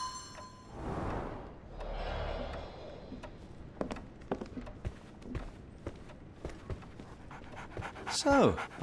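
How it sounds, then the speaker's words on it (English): A dog pants steadily and close up in the video game Sherlock Holmes: The Awakened, with soft footsteps and a brief voice. "So, Barnes has a dog now"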